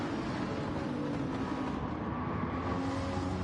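Race cars running four wide through the corners at Grand Valley in a sprint race. Their engines blend into a steady, moderately distant drone that holds throughout with no clear single pass-by.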